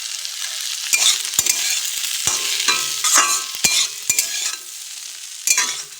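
Potato and cauliflower fry in a pan with a soft, steady sizzle, broken by a series of sharp scraping strokes as a spatula stirs them up close, with no voices.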